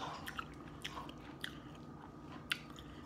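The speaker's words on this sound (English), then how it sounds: "Mmm, piece of chorizo." Close, quiet chewing and biting of Cuban-style chorizo, with soft crunchy bites and moist mouth sounds recurring every half second or so, sharpest near the end, alone without talk.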